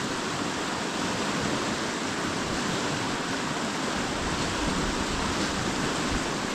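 A river in full flow after a storm gives a loud, steady, broadband rushing roar close by, unbroken throughout with no voices.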